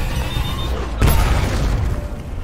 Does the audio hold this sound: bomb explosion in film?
yes